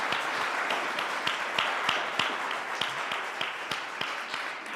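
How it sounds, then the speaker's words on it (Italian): An audience gives applause at the end of a talk, with many hands clapping steadily and sharp individual claps standing out, sustained for several seconds before gradually thinning. "allora ringraziamo con un applauso Paolo Borzacchiello per la sua disponibilità"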